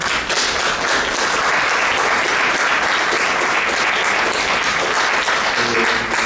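Indoor audience at a storytelling event at the Casa de la Literatura giving loud, steady applause that stays dense and even from start to finish.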